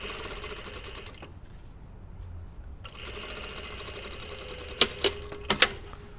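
A sewing machine stitches a jeans pocket bag with a steady mechanical whir, pausing briefly, then resuming before a few sharp clicks and knocks near the end.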